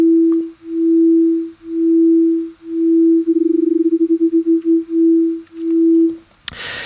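A pure synthesizer tone in Ableton Live under auto pan volume modulation swells and fades in slow, even pulses, then flutters rapidly for a moment before returning to the slow pulsing, clean and close, ending with a brief click.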